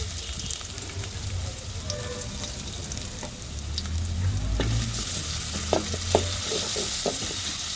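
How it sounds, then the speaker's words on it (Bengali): Dried red chillies, chopped garlic and chopped onion fry in oil in a pan, giving a steady close sizzle with light stirring scrapes and a few sharp clicks, and no talking. "এখানে যে শুকনো মরিচ দিলাম রসুন কুচি দিলাম পেঁয়াজ কুচি দিলাম"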